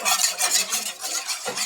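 A spoon stirs a mixture just after oil has been poured in, giving quick, rhythmic scraping strokes close up and loud, with no voices.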